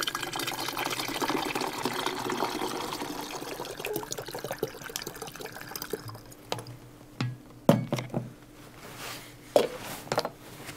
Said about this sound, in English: And then fill the bottle almost to the top with water.